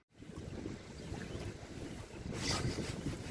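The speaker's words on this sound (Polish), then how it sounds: "przepraszam za wszelkie mocne podmuchy wiatru i że czasem będzie po prostu ten wiatr mega słyszalny" Strong wind buffets the microphone outdoors on open water during a perch fishing trip, a steady rough roar that builds into a louder gust near the end.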